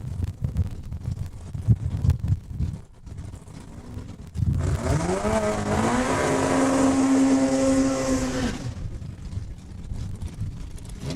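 A 4-cylinder altered Bantam drag race car roars past at Saskatchewan International Raceway, a sustained rising engine drone that builds loudly for about four seconds against wind and crowd noise, then fades.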